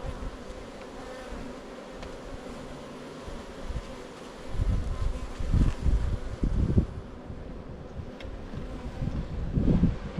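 Honey bees buzz around an open hive during a spring inspection, a steady low drone with louder swells as bees pass close, mixed with light wind noise on the microphone.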